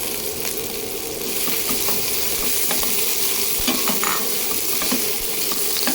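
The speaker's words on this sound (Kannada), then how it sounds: "ಬೆಂಡೆಕಾಯಿನ ಚೆನ್ನಾಗಿ ಫ್ರೈ ಮಾಡ್ಕೊಳ್ತೀನಿ, ಒಂದು 2ರಿಂದ 3 ನಿಮಿಷಗಳ ಕಾಲ." Steady sizzling of okra frying in a pan, with occasional clicks and scrapes from stirring, continuous and fairly loud with no talking.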